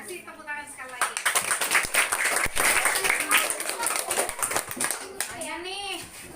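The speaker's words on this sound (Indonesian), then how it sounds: "Kasih tepuk tangan sekali lagi." Children in a classroom clapping together in a lively, fairly close burst that starts after a moment of talk and fades, with kids' voices before and after.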